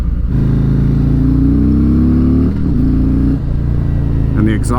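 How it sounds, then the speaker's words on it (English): A stock 2019 Harley-Davidson Road King Special with the 114 engine rumbles close by on a test ride, a deep, loud, throbbing exhaust note that dips briefly twice as the revs shift. "the exhaust note sounds really good too, even just stock, you know, from the factory"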